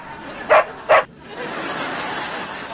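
Dogs barking in a scene from the TV show Wizards of Waverly Place, two sharp close barks in quick succession followed by a low murmur of background noise.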